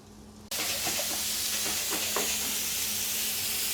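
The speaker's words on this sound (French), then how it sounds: "on envoie les pommes de terre un peu à la poêle" Potatoes with peppers and onions hit a hot pan and start a loud, steady sizzle that begins abruptly and holds throughout, with a few light stirring clicks near the start.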